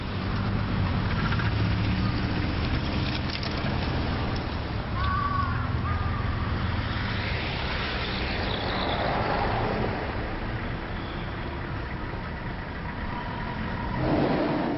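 Road traffic flows past a pedestrian crossing, car engines idling and accelerating close by under a constant roadway rumble, with a brief brake squeal midway and a vehicle swelling loudly at the end.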